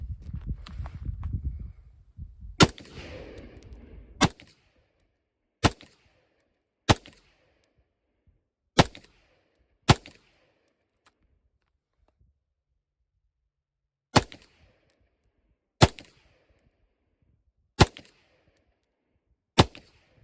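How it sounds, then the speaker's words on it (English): Sharp, isolated rifle shots from a gun fitted with a red dot optic crack out one at a time at uneven intervals, each ending in a short decay, with near silence between them after a brief stretch of rustling handling noise. "This gun sure shoots soft."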